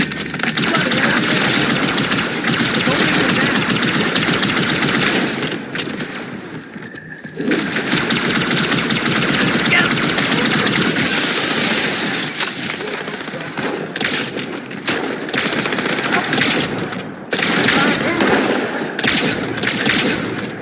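Sustained heavy gunfire in Halo 2, loud continuous automatic weapon bursts with brief pauses and game battle noise layered throughout.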